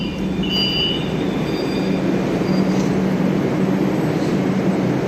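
A metro train on the line at Joka station in Kolkata, a continuous loud rumbling roar with faint squealing wheel tones over the steady drone.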